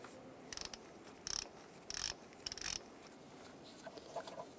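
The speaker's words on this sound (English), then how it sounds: "Use an E10 socket to take those out." E10 socket on a ratchet loosening thermostat housing bolts on a Chevrolet Cruze, several short bursts of crisp clicking pawl sounds, close and fairly quiet, no talk over it.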